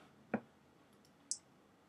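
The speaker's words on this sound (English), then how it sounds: "I undo by clicking Command Z" Two separate sharp keyboard key clicks, like a Command-Z undo shortcut in Photoshop, spaced about a second apart against quiet room tone.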